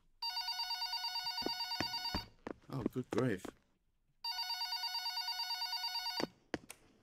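A telephone rings in the video game Paint The Town Red with a steady electronic bell trill in two long bursts, the second after a pause filled by a brief spoken exclamation and some clattering.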